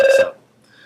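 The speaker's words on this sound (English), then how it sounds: "you'll have to listen to the phone ring for a couple of seconds" A telephone rings in one loud, short tonal burst that quickly decays into near silence, with a faint tone returning at the end.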